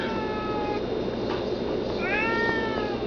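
A cat meowing outside an upstairs window, two drawn-out, fairly loud cries separated by a short pause over a steady background hiss.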